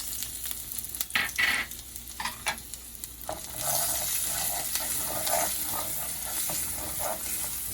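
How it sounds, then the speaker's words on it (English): Curry powder and garlic fry in hot oil: a few sharp clicks of stirring, then a steady, close hiss of sizzling that holds on with scattered crackles. "So I'm going to add the curry in my oil. That is like 2 tablespoons of curry. I'm going to put the garlic also into it."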